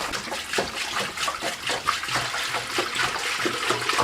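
Water pours steadily into a large pot of moose bones for bone broth, a continuous splashing, gushing rush at close range with no voices.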